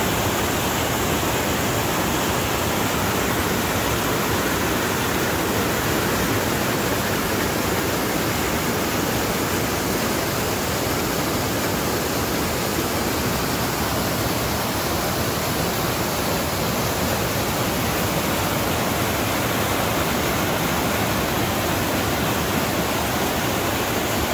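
A waterfall in the Boundary Waters wilderness rushes in a steady, dense roar, loud and close, with no break or other sound over it.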